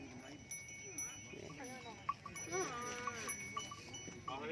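Cattle and buffalo at an outdoor livestock market in Don Thoi, Thailand, low and fairly faint, with scattered bleat-like calls, bell clanks and background crowd chatter throughout.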